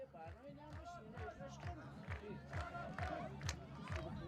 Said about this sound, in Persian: یک صدا تشویق میکنن تیم صنعتی مثل شهرورک رو هواداران پرشور شهرورکی